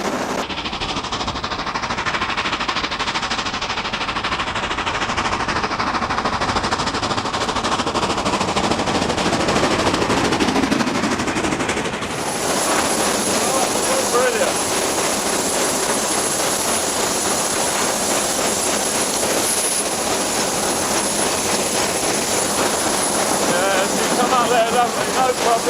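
Black Five Stanier Class 5 4-6-0 steam locomotive accelerating, a loud, dense, rapid chuffing roar that stays strong throughout, with wind and a shifting pitch as it gathers speed.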